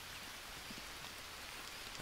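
Rain falls steadily in the survival video game Green Hell, a faint, even hiss of drops on surfaces that carries on without a break and with no voices over it.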